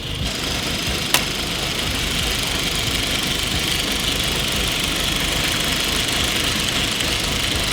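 An Audi car engine idling, a loud, steady mechanical rumble with a fine knocking texture held constant throughout, broken only by one brief sharp tick early on.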